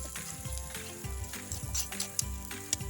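Cheese melting in a pan while making onion rings, giving a steady, soft sizzle with faint stirring scrapes and a low hum underneath; no talk.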